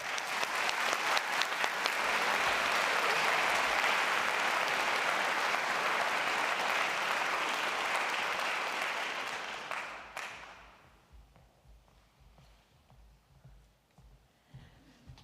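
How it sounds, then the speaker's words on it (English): A college honors convocation audience applauds award-winning student athletes and teams, loud, dense clapping for about ten seconds before it fades to scattered claps and quiet room noise. "Please join me in congratulating our award-winning student athletes and teams with a round of applause."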